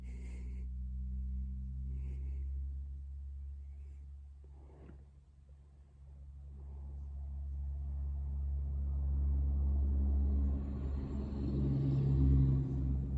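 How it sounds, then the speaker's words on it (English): An 18-wheeler truck rumbles past through a residential area with deep low-frequency engine drone, growing louder toward the end as it nears, with no talking. "that was an 18-wheel that's going through a residential area"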